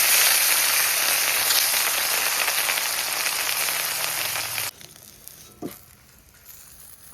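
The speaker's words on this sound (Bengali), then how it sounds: "বাকি মাছগুলো ভেজে নেব" Fish pieces sizzle loudly in hot oil in a home kitchen, a dense steady crackle that suddenly drops to a quieter fry with a few faint clicks and bumps.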